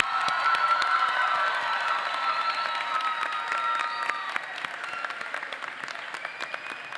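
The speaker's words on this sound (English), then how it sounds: "How about another big round of applause for these students?" A crowd at a nurse pinning ceremony applauds steadily and loudly, with a few cheers mixed in, the clapping slowly thinning out toward the end.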